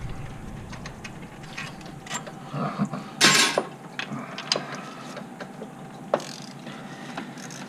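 Hand ratchet clicking on intake bolts of a Chevy 4.3 engine in an S10 Sonoma, faint, irregular bursts of ratcheting and small metallic knocks, with one louder clattering burst midway.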